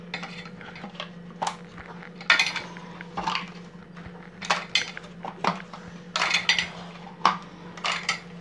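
Semiya milk being poured into ice candy moulds, with scattered clinks of utensils and containers against a low steady hum, close and moderate in level, no voices.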